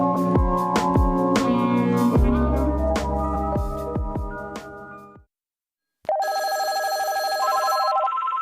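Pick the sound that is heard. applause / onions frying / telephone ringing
telephone ringing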